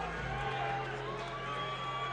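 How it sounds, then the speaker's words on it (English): A steady crowd roar fills a boxing venue as a hometown fighter enters the ring, continuous and distant, with an announcer's voice talking over it. "You hear that roar from the crowd"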